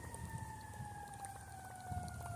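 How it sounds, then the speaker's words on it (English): A fire truck siren wails in the distance, a steady drawn-out tone slowly falling in pitch over faint background noise. "Definitely sounds like a fire truck."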